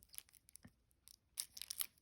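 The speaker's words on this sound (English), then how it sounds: "We are going in with the scissors." Scissors snipping through the plastic wrap on a Soul Cats tarot deck, heard as a few short, crisp tearing crinkles near the mic followed by a louder cluster of snips and crackles.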